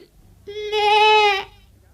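A goat gives a single drawn-out bleat lasting nearly a second, loud and close, with a rich buzzing tone that swells and then cuts off, set against quiet surroundings.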